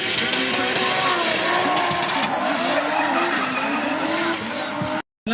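A drift car at Anglesey Circuit during a European Drift Championship round skids hard into a corner, tires squealing loudly over a roaring engine, continuous and close before cutting out abruptly at the end.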